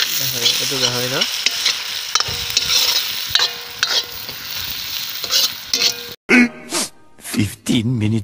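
Pork cooking in a pan with onions, sizzling and frying while being stirred, with intermittent scraping strokes and louder sizzle bursts toward the end; a voice is heard at times over the cooking.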